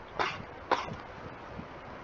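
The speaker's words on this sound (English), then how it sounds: "Sorry, I feel like I have to cough again." Two short, fairly soft coughs in quick succession, followed by a faint throaty sound against a quiet background.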